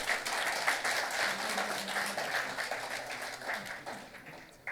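Audience applause at a national convention of insolvency professionals and registered valuers after a panel session, a sustained crowd clapping at moderate distance with faint murmurs underneath, easing off toward the end.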